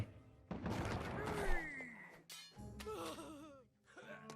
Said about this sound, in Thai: มาลองดูปืนใหญ่ล้วนยิง